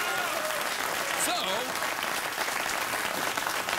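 A late-night television studio audience breaks into sustained, dense applause that holds at a steady level throughout, with a faint voice briefly heard within it.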